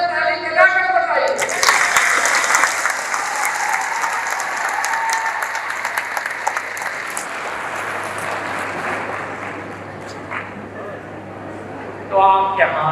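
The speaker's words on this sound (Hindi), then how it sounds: "इन दोनों हाथों से ताली बजा कर बताइए" A college audience in Saraikela at a tribal affairs employment event claps with both hands in a loud, dense burst that slowly thins out, with a voice speaking near the end.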